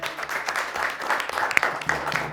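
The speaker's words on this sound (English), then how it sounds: "Let's give her a round of applause." Audience applause for a third-place finisher on a school quiz-games show, a brief, moderately quiet burst of scattered clapping without talk.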